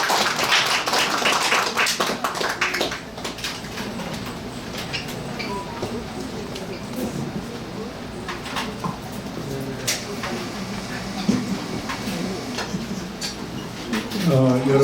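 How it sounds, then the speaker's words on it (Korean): Audience applause at a poetry book launch as a guest speaker is called up, a dense burst of clapping at the start that thins into scattered claps and room murmur. "뜨거운 박수 부탁드립니다"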